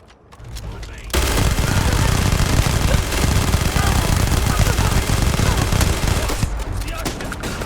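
Dense, sustained automatic gunfire in a Starfield firefight, loud and continuous for several seconds after a brief lead-in, with rapid overlapping shots.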